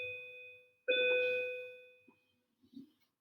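A single bell strike in a classroom rings out with a clear, sustained metallic tone that decays slowly over about a second and a half, followed by faint room noises.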